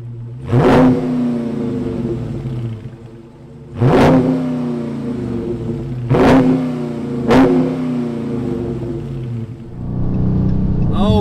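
A 2020 Dodge Charger Scat Pack Widebody's naturally aspirated 6.4-liter Hemi V8 revs hard four times, each sharp climb falling back to a deep, rumbling idle; loud and close, with no talk.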